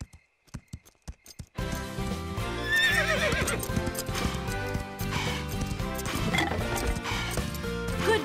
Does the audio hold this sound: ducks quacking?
no